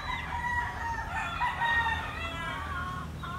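A rooster crows loudly and drawn-out nearby on a farm, with hens clucking around it; no one speaks.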